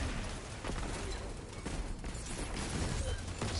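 Scorch cannon fire in the Destiny 2 video game, a dense barrage of blasts and explosive crackle over dense game noise, steady and loud throughout with no clear pauses.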